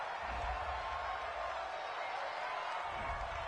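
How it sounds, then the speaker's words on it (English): A home crowd in an American football video game cheers a penalty call, producing a steady, fairly faint wash of crowd noise with no distinct claps or voices standing out. "This home crowd, they're happy with that call."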